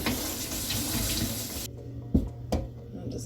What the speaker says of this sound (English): And turn the water on.